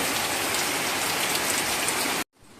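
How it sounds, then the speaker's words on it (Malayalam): Heavy night rain pours down as a dense, even, loud hiss, then cuts off abruptly near the end. "മഴ പെയ്യുന്നുണ്ടോ നല്ല മഴയുണ്ട്"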